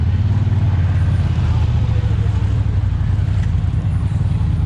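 A big bike's engine rumbles steadily up close as it pushes through shallow bayou water at a Gator Run mud event, a loud, continuous low drone.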